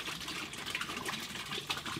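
Three gallons of vinegar pour steadily into a pail of a couple of gallons while descaling a tankless water heater, giving a continuous close splashing gush with no talk.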